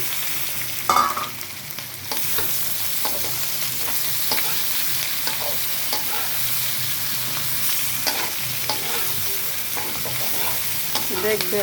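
Spices frying in a pan with turmeric, cumin paste and coriander powder for a pointed gourd rezala, a steady crackling sizzle with stirring scrapes throughout, close and continuous, with one brief spoken word.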